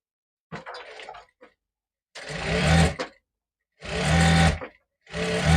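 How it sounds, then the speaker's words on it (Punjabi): A sewing machine stitches a zip onto a shirt in several bursts of motor whir and rapid needle rattle, separated by short pauses, close and clear with no talk. "ਇਸੇ ਤਰ੍ਹਾਂ ਆਪਾਂ ਨੇ ਸਲਾਈ ਲਗਾਉਣੀ ਆ ਇਸੇ ਤਰ੍ਹਾਂ ਦੂਜੀ ਸਾਈਡ ਤੇ ਲਗਾਵਾਂਗੇ"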